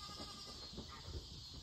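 A goat on a house roof gives a few short, fairly faint bleats over a steady background hiss, with no talking.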